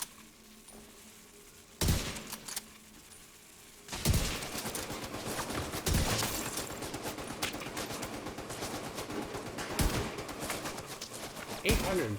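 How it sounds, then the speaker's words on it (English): Video game gunfire in Division 2 comes as sharp bursts at first, then a long, dense stretch of rapid continuous shooting with a few louder blasts. "Look at him just firing away."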